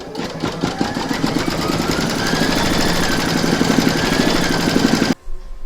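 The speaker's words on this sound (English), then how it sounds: "Pop your hoop back into your machine and stitch round number 3 to secure it." An embroidery machine stitches the third securing round of an in-the-hoop stacked Christmas tree, a loud, fast, rhythmic needle chatter that runs steadily and then cuts off abruptly near the end.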